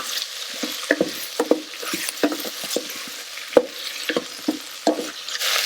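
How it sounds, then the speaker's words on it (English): Green beans stirred into ginger garlic paste in a pot, giving a run of soft scraping and clicking stir strokes over a faint sizzle, close and moderate in level. "Now add green beans. Good stir."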